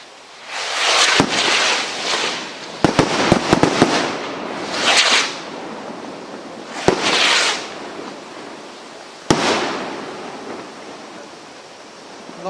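Universal attack rocket fireworks launching and bursting at a sale-day demo, several loud whooshing launches and sharp cracks spread over the clip, with hissy bursts between quieter gaps.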